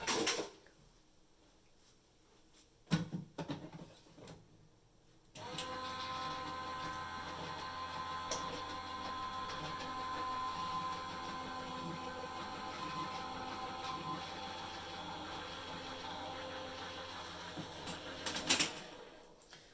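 A Couture Creations Go Press n Foil hot foiling machine is handled with a few clicks and knocks, then runs with a steady motorized hum and whir for over ten seconds before a final clatter as it stops.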